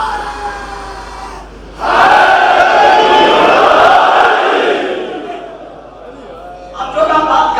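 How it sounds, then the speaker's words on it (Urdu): A large crowd at a Muharram majlis gathering in Lahore roars a slogan in unison, a loud sustained mass shout lasting several seconds that fades, then rises again briefly at the end. "دونوں ہاتھ بلند کر کے پوری طاقت سے نعرے کا جواب دے گا"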